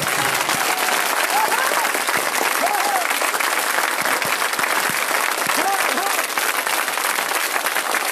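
A large crowd at a political rally for an independent Lok Sabha candidate in Banaskantha breaks into sustained loud applause, a continuous dense clatter of clapping with a few voices calling out over it.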